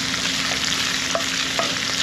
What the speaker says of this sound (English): saute the onion and the jalapeno